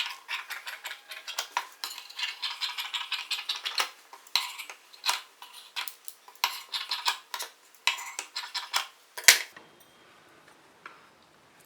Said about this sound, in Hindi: अब हम इसके थोड़ा बाहर से कपड़े की कटिंग कर